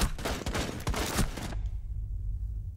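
Rapid automatic gunfire in a shooter game rattles off in a loud, close burst for about a second and a half, then cuts to a low rumbling background.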